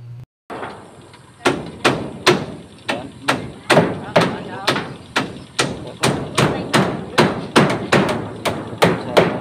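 Hammer blows driving nails on a house construction job, roughly twenty sharp strikes in a steady, slightly uneven rhythm, close and loud, with a faint hum running underneath.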